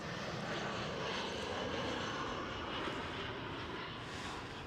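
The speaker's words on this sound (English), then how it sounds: "that aircraft you heard flying by was EasyJet" An EasyJet airliner flying by near Amsterdam Schiphol airport, a broad, even engine roar that holds steady for the whole moment and eases slightly at the end, with no voices.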